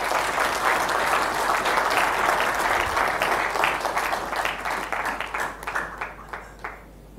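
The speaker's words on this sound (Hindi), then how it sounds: "ऐसे इंसान के लिए बहुत ज़ोरदार तालियां की" An audience at a health insurance seminar gives loud, sustained applause. The clapping stays dense for several seconds, then thins into scattered claps before fading out.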